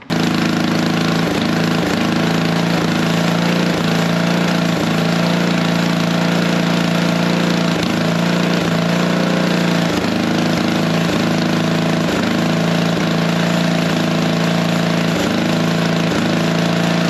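A homemade monster lawn mower's small engine runs steadily and loudly at close range, a continuous droning hum with a faint rhythmic pulsing throughout.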